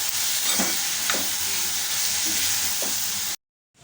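Capsicum cooks uncovered in a pan with salt, giving a loud, dense sizzling hiss with a few soft stirring knocks, then cutting off abruptly into near silence.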